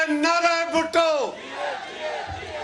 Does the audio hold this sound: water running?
no